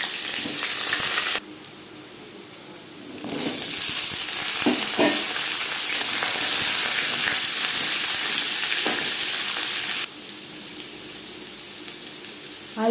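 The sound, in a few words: potatoes frying in hot mustard oil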